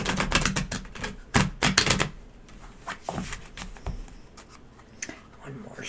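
Tarot cards riffle and slap together in quick bursts, close by, followed by lighter handling sounds and a soft voice.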